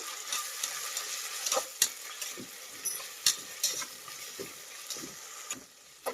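Ginger garlic paste fries in a pan for tomato bath, a close crackling sizzle punctuated by regular spatula scrapes and taps against the pan.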